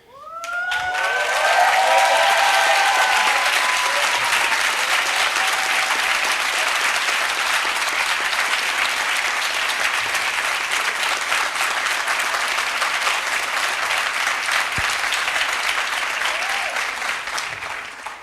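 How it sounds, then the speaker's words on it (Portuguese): Sustained audience applause fills an auditorium at a philosophy closing panel, dense and steady for the whole stretch, with a few brief whoops early on and no talk over it. "Eu não esperava que tivesse palmas,"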